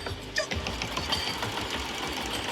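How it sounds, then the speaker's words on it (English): Embroidery machine stitching out a test design in a working embroidery shop: steady, continuous mechanical whirring and rapid needle clatter, close and even throughout with no talk. "Just did a test stitch out for one of the last designs."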